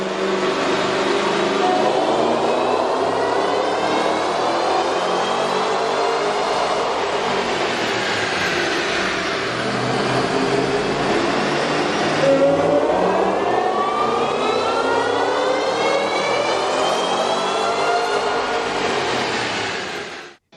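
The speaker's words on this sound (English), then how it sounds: "we ran the vehicle on the dyno to test the sound comparison versus the stock intake" An engine fitted with a K&N cold air intake revving on a dyno, a loud close drone that climbs and falls in pitch through several sweeping pulls, continuous with no voices.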